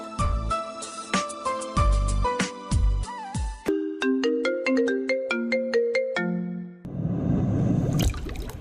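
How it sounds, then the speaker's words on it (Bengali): A phone ringtone plays as a bright, melodic electronic tune of repeating chime-like notes, loud and close, ending in a short burst of noisy sound. "জঙ্গলের কাছে গাড়ি থামতেই কারো ফোন বেজে উঠল।"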